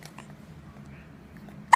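A baby boy lets out small hiccups, a soft one early on and a sharper, louder hic right at the end, close by in a quiet room with a low steady hum underneath.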